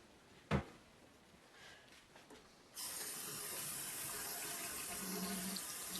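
Tap water running into a sink while a doll's hair is washed, a faint knock first, then a steady, close hissing stream that starts partway through and keeps going.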